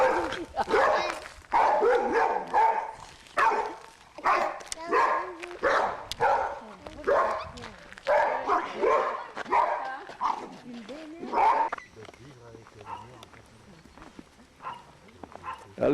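A dog barks and yips in bursts close by while people talk over it, with whimpering sounds scattered throughout.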